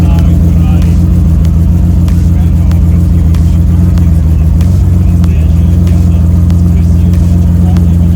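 A Ferrari Testarossa with an aftermarket exhaust idles while warming up, a loud, close, steady low rumble that holds evenly throughout with faint ticking on top.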